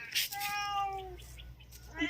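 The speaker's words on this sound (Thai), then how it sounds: "ทิวลิปกับซากุระน่ะ ชอบอาหารแมวเลีย" A cat meows up close, with one clear drawn-out meow in the middle and shorter calls around it, heard alone against a quiet room.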